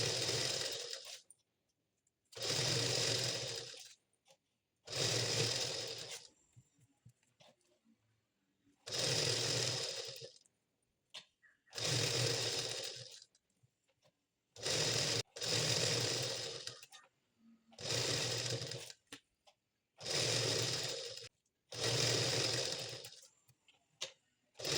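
A sewing machine stitches a blouse hem in about ten separate bursts of loud whirring, each a second or two long. Short silent pauses fall between them while the fabric is folded and repositioned.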